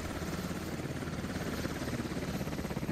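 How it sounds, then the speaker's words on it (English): A helicopter flies in a military video game, its rotor producing a steady, fast, throbbing drone that stays even and fairly loud throughout, with no one talking. "We're going to follow the helicopter into its objective on my side."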